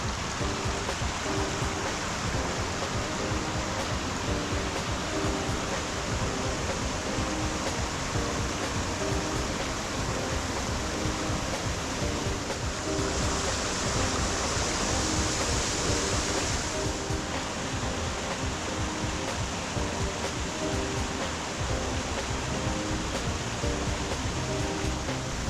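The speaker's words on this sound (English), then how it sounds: "So we've reached the top of what's known as Happy Valley Waterfall." Happy Valley Waterfall in the Blue Mountains pours steadily, a dense, loud, unbroken roar of rushing water with no other sound over it.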